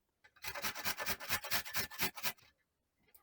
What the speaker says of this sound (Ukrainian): Моркву натираю на крупній терці.